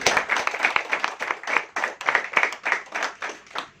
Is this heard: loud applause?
yes